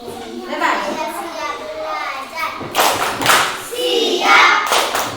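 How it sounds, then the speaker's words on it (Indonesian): Children in a classroom clap for a classmate named Saskia, bursts of hand claps and thumps mixed with kids' voices and chatter, fairly close and lively. "kita tepuk tangan untuk Saskia"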